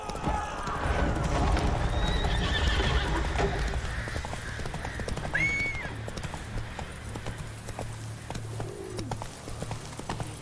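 Roach, a horse in a video game, clip-clops along at a gallop with loud, steady hoof rhythm and an occasional whinny, joined by faint bird calls and other game ambience.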